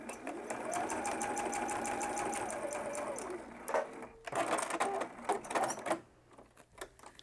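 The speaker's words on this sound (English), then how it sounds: "And I'm going to just start quilting in the center." A Juki sewing machine quilts straight rows through the layers of a scrap-fabric Apple AirTag keychain, running in a steady rapid stitching whir for about four seconds, then stopping and starting in short bursts with soft handling clatter.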